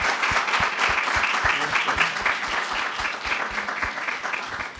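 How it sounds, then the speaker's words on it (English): An audience breaks into enthusiastic applause, a dense roar of clapping with a few sharper claps standing out, continuing steadily throughout. "Let's give our Vice President a round of applause."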